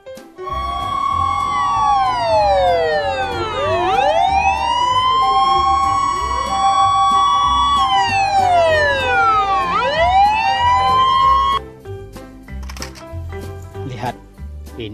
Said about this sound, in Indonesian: Ini mobil pemadam kebakaran.